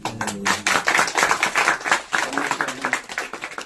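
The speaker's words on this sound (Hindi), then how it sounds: "तालियां।" Congregation clapping at a Hindi-language Christian worship and testimony gathering, a dense run of many hands that stays fairly steady throughout, with some voices mixed in underneath.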